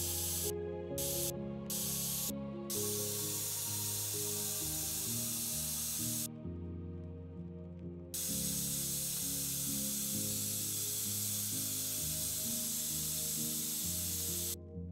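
A spray bottle hisses in long continuous bursts close by, with a few short puffs at the start and a brief pause midway, used while desensitizing a horse to spraying.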